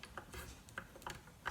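A scoring tool draws across cardstock for a 3x3 mini card album, giving a few short, crisp scraping strokes in quick succession, close and fairly quiet.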